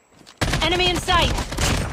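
Call of Duty: Mobile Team Deathmatch match with AK-47 fire, sudden loud bursts of shots mixed with game voice callouts and dense battle noise.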